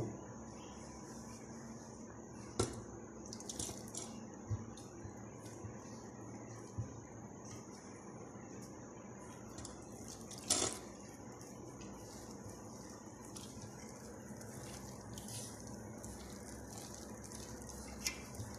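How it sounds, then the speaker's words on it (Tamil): Water trickles steadily into ready-made flour batter for potato, onion and plantain bajji, added little by little as a soft continuous wash with a few small clicks of the bowl, close by and with no talking. "கொஞ்சம் கொஞ்சமாக தண்ணி ஊற்றி"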